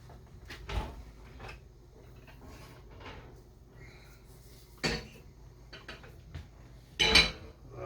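A casserole dish being lifted out of the oven after thirty minutes with the lid on, heard as a few scattered clunks and knocks of cookware and the oven door against quiet kitchen background, with one louder clatter near the end.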